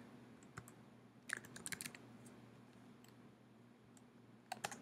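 Computer keyboard typing during a C# coding session in Unity3D, heard as faint, sparse clicks: a single tap, then a short burst of keystrokes midway and another quick cluster at the end, over a steady low hum.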